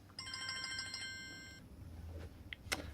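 A mobile phone ringtone plays a bright, repeating electronic melody for about a second and a half and then cuts off, leaving faint knocks and handling noises in a quiet space.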